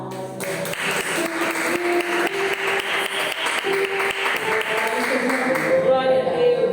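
A church congregation claps together during a morning service, a dense patter that carries on for several seconds while a voice and an instrumental tone sound along with it.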